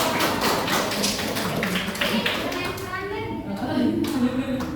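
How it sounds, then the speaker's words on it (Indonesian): A group of listeners clapping for a presenting team in a classroom setting, dense overlapping claps continuing over several seconds with voices mixed in. "Beri tepuk tangan buat kelompok."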